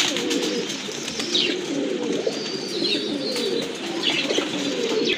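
Satin pigeons at a pigeon market coo in repeated low, throaty phrases close by, with a few higher chirps and background activity around them.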